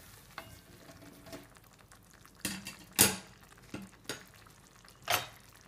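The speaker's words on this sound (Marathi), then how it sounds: "आणि कोलंबी शिजायची वाट पाहूया।" Prawns cooking in a pan over a gas flame, giving a quiet steady sizzle broken by several sharp clatters and scrapes of a spoon stirring against the pan.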